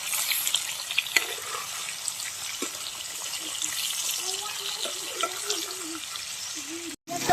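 A ladle stirs snake gourd (chichinda) frying in hot oil for kalonji, giving a continuous sizzle broken by scraping and clinking strokes at a steady pace.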